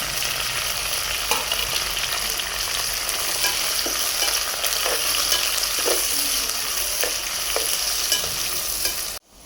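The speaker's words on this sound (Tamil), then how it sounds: "கருவேப்பிலையும் போடுறேன். இது வதங்கட்டும்." Onions and curry leaves fry in hot oil after mustard seeds have popped, the base for a country chicken gravy. A steady close sizzle runs throughout with light stirring scrapes, and there is no talking.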